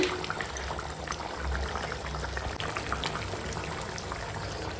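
Fish curry broth of katla with ridge gourd and drumstick bubbling at a steady boil as fresh young spinach goes in, a continuous low rolling bubble close by with no talk.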